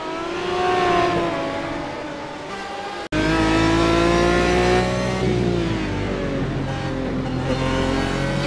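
Aston Martin GT1 race cars lap Brands Hatch in iRacing, a loud, steady engine drone with harmonics rising and falling through the gears, a brief cut near three seconds, then continuous revving from close by.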